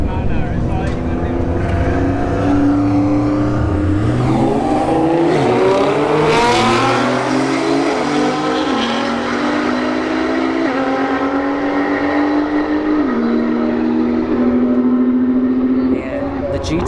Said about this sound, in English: Nissan GTR right, left lane, Porsche 911 in the right lane.